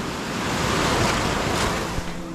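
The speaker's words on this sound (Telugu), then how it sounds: "సముద్ర ఘోష అంటారు కదా, అదే ఇది." Sea waves roar onto a shore in a continuous loud, close wash of surf that swells slightly midway, with no voices.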